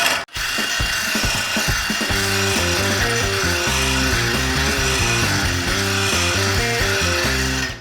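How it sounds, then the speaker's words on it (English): Sharpening stone spun by a drill at fast speed, ground back and forth against a blade: a loud, continuous harsh grinding roar with a steady droning hum, alone and close. "We're going to go on fast speed on the drill."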